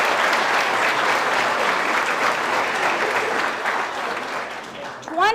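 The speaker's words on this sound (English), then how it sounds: "Let's have a big round of applause for 20 years of service." Audience at a county board of commissioners regular meeting gives a loud, sustained round of applause honoring an employee's 20 years of service, a continuous close wash of clapping that tapers slightly near the end.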